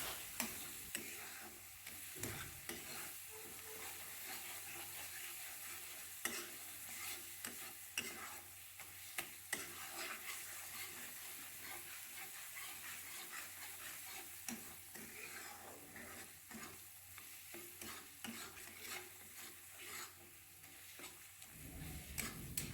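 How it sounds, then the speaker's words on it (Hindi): Onion paste frying in oil with garam masala, coriander powder and turmeric in a home kitchen, a steady soft sizzle with occasional stirring scrapes and ticks, quiet and continuous with no talking. "जब तेल अलग होने लगेगा तब इसमें डालूंगी गरम मसाले और धनिया पाउडर, हल्दी पाउडर डाल के अच्छी तरह से मसाले को भूनूंगी।"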